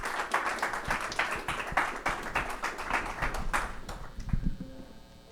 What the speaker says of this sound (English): Ray Lundy, give him a great round of applause.